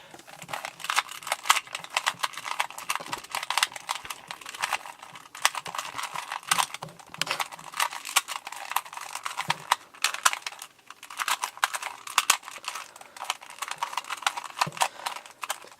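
A 2x2x2 Rubik's cube being scrambled by hand: continuous fast plastic clicking and clacking of twisting pieces, close and dry, with no talk.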